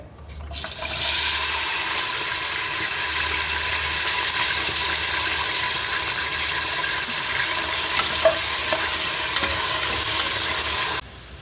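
Chopped potato fries and is stirred in hot oil with fenugreek for dal khichdi, a loud, continuous hissing sizzle that holds steady for about ten seconds before cutting off abruptly, with no talking.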